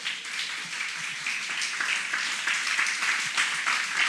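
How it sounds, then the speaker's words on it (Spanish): A church congregation claps and applauds, a dense, even wash of many hands lasting the full few seconds at moderate loudness with no voices over it. "Dele una ofrenda de palmas al Señor."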